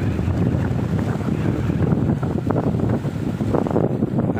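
Strong wind buffets the microphone over the constant wash of freshwater waves against the shore of Laguna Lake, a rough, continuous roar with no voices.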